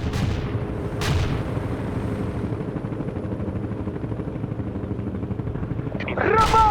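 Artillery barrage in the strategy game World in Conflict: dense, continuous low rumble of shellfire and blasts, with sharp bursts near the start and a louder crackling impact at the end, under battlefield chatter.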